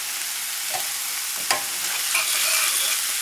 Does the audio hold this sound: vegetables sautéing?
yes